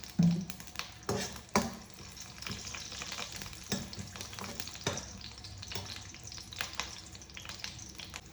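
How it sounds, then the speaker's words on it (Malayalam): Garlic, shallots and spices frying in sesame oil for a Kerala-style garlic curry, a steady close sizzle with stirring clatters and occasional utensil taps throughout. "എല്ലാം എണ്ണയിൽ വറുത്ത് കോരണം"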